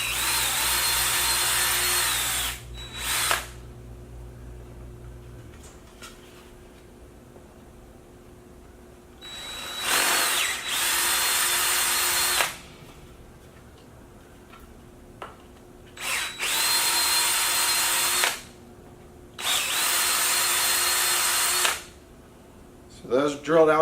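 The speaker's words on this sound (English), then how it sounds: "So I'm going to go ahead and drill this out." A 5/16 drill bit bores out and widens an existing hole while mounting a micro Powerpole on a Kaku kayak, the drill running in four loud bursts of a few seconds each with short pauses between them.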